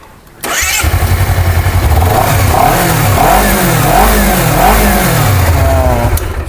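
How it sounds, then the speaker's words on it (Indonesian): A 250cc sport motorcycle with ABS starts up after a brief quiet moment, then idles loudly nearby while its engine is revved in several distinct swells that rise and fall. "Suaranya khas banget, khas motor sport ya."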